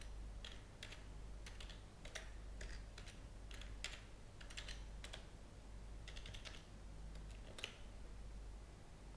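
Steady typing on a computer keyboard, clusters of soft key clicks in irregular bursts while a username and password are entered, close and fairly quiet over a low constant hum, no talking.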